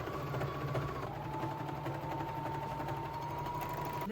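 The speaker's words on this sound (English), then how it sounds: "I'm just gonna sew that seam shut." Sewing machine stitching a sweatshirt side seam, a steady fast mechanical whirring and rattling hum that runs continuously at close range with no talking.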